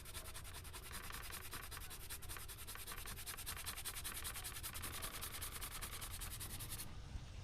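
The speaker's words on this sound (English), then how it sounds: "I'm going to hit this with a little 220, sand off any hard super glue spots" 220-grit sandpaper rubs over hardened super glue spots on a front entry door in steady back-and-forth strokes, a soft continuous rasp that runs for several seconds and stops near the end, with no talk.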